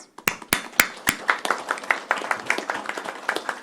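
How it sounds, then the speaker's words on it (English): Audience applause at a county commissioners court meeting, starting with a few sharp, separate claps that quickly swell into steady, fairly close clapping from many hands. It carries on through to the end with no talk over it. "Deserve a round of applause."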